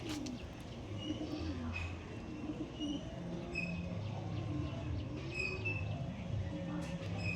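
Pigeons of a Punjabi breed kept in a loft coo softly in low, rolling phrases, fairly faint, under a steady background hum with a few high chirps.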